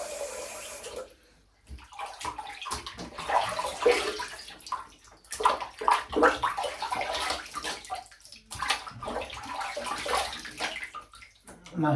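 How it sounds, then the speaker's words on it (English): Cold water splashed repeatedly onto a face after a straight-razor shave, with close, irregular bursts of running and splashing water from a tap or basin, briefly pausing between handfuls. "Nice cold splash."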